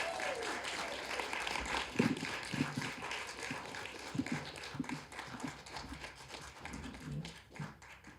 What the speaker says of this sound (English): Keep the applause rolling